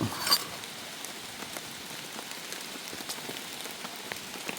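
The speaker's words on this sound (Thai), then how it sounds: "ฝนตกฝนตก" Steady rain falls in a mountain forest, a dense even hiss with faint scattered drop taps and one brief louder knock at the start.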